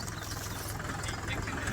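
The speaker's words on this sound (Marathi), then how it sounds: "मात्र ट्रॅक्टर याच पाण्यातनं पुढे सरकतोय" A tractor engine idles and chugs steadily as the tractor pushes through floodwater from the flooded Kelna river in Jalna, a low, continuous throbbing with a faint wash in the background and no clear speech.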